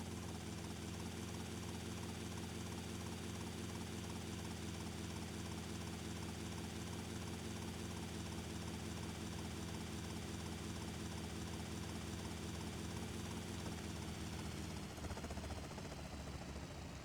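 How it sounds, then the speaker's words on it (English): A damaged, smoking helicopter in GTA Vice City Definitive Edition flies steadily, its rotor and engine producing a constant, dense whirring drone with rhythmic blade chop, sustained and loud throughout without talk. "go grab another helicopter because this one is smoking"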